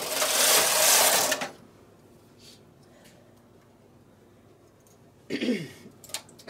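A knitting machine knitting mock moss (honeycomb) stitch gives two rasping, whirring carriage passes: a loud burst lasting over a second, then quiet, then a second shorter pass near the end.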